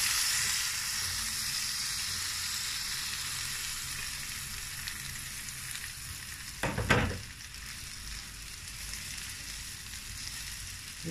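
Cauliflower pieces fry in melted fat in a pan with a steady, even sizzle, broken near the middle by a brief louder clatter as they are moved or spooned into place.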